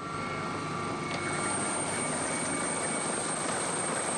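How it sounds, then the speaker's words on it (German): A Salvamento sea rescue helicopter flies close overhead, its rotor roar and engine whine loud and steady for the whole stretch, with no talk. "Dann kommt der Salvamento-Helikopter."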